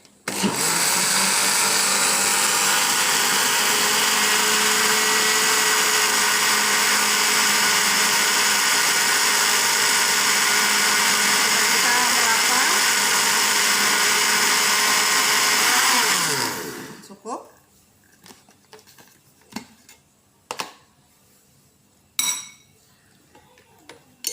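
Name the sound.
blender blending batter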